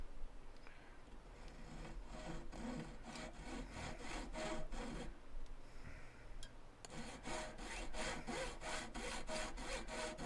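A jeweler's saw blade cuts into silver plate for a pendant, a steady rapid rasping of back-and-forth strokes, close and continuous, with one brief pause midway.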